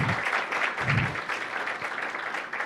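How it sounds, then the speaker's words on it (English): An audience at a registry platform launch event breaks into dense, sustained applause, many hands clapping together close by with no voices over it. "please let's clap for them"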